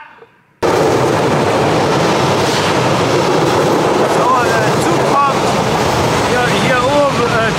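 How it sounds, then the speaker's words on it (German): A train rumbles over a drawbridge overhead, loud and sustained with a dense roar and scattered metallic squeals as the cars roll across, cutting in abruptly after a quiet moment. "Hier oben Zug kommt"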